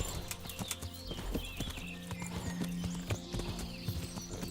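Rhythmic clip-clop of a horse's hooves with an occasional whinny as it jumps in a video game, layered over busy background sound and a low electronic hum.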